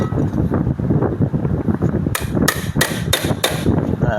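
Concrete nail driven with a hammer: five sharp metallic strikes in fairly even rhythm, close and loud over a steady background hum, no talk.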